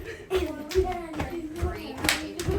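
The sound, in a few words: hand clapping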